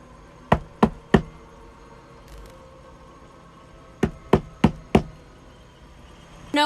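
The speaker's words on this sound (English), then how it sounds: "That's when the knock came." Three sharp knocks on a door, a pause, then four more knocks, crisp and close against a quiet background.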